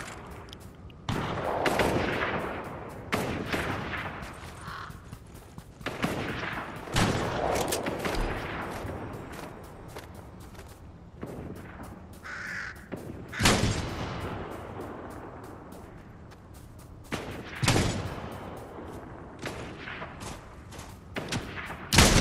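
Gunfire in the Fortnite video game, repeated sharp shots and bursts scattered throughout, some loud and close and others fainter, with short pauses between exchanges.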